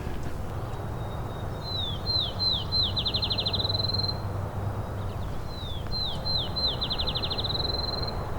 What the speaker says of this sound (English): Here is a field sparrow.